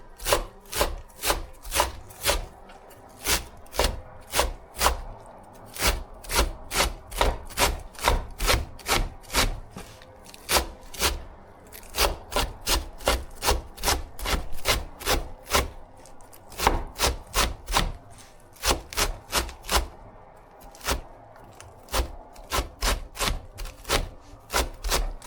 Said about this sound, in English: So first we have to finely chop the celery and mix it with the pork and seasonings.